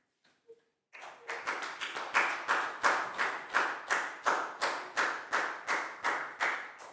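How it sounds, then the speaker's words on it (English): A class of Year 4 pupils gives a round of applause, starting with a few scattered claps, then a steady run of many hands clapping in a rhythmic pattern at moderate distance. "High five and a big round of applause for Prao, please, guys."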